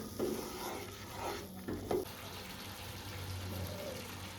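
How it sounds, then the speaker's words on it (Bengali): Spices being stir-fried with cashew and melon seed paste for a mixed vegetable curry, a soft low sizzle with a few stirring scrapes near the start, fairly quiet, with some speech mixed in. "এখন সব মশলাগুলোকে একসঙ্গে ভালো করে কষাতে থাকবো।"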